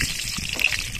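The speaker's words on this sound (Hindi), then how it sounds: "तेल वगैरह हो गया गरम और अब इसमें जो है सो अब डाला जाएगा मिर्च" Chillies dropped into hot oil in an outdoor jungle cooking setup, giving a steady, close, rushing sizzle that stays dense and even for the whole second, with no talking.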